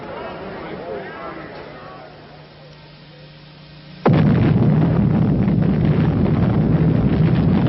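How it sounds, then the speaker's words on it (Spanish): A hydrogen bomb test at Eniwetok in 1952 sets off a sudden, loud blast that gives way to a sustained roaring rumble, following several seconds of quieter ambient noise and talk. "La prueba de la primera bomba de hidrógeno."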